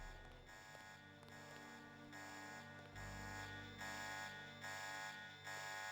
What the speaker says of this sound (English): Will the alarm just go off?